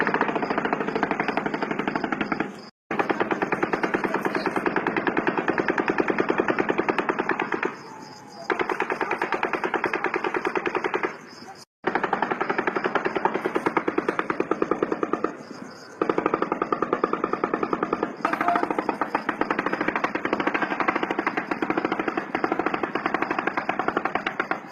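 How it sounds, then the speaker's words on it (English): Rapid automatic gunfire from the Las Vegas mass shooting at the Mandalay Bay area, long sustained bursts of dense rattling shots broken by a few short pauses, loud and distorted throughout. "Initially it is impossible to tell where the gunfire is coming from"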